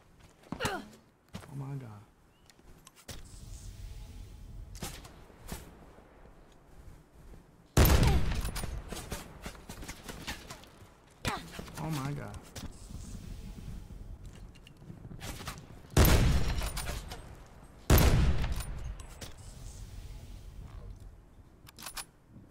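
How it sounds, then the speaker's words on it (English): Gunfire rings out in Call of Duty: Blackout as several sharp bursts of shots with rolling echo, some sounding distant and others louder, mixed with quieter game noises and occasional talk. "you hear these shots, but they're so far away than they actually are"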